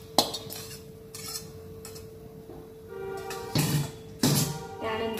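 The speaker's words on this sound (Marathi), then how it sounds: "हे सर्व मिश्रण पोह्यामध्ये मिक्स करून घ्यायचे आहे।" Roasted thin poha chivda is tossed with a spice mixture, giving a few sharp spoon clinks and dry scraping bursts against the pan over a quiet background with a faint steady hum.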